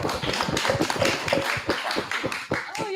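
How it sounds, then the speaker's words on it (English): Scattered hand clapping from an audience at a live bitcoin and beer meetup, irregular sharp claps close by, fairly loud and continuous, with no speech over it. "Oh yeah, I have to clap for me."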